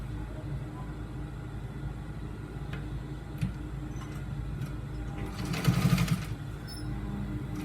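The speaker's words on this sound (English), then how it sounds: "After that, I'm going to stitch the other side." A sewing machine runs steadily under faint background noise while stitching a trouser seam, a low continuous whir with a brief louder burst near the end.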